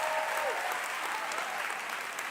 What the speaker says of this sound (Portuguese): Aplauda-se, meu bem forte aí!